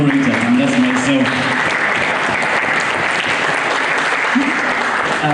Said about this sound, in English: Finally, please, can I give a big round of applause to the moderator